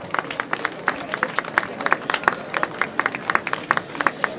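Audience clapping at a fat-cattle fair prize ceremony, a moderate scattered round of individual claps, fairly close and steady, with crowd murmur in the background.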